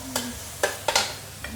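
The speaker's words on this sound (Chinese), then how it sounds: "我下那个姜去爆哈，" Ginger hits a hot wok, with a low sizzle broken by several sharp spatula scrapes and clatters close by. No one speaks.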